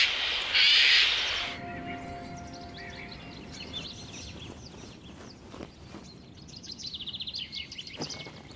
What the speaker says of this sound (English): Songbirds, and especially members of the crow family, seem to delight in harassing birds of prey.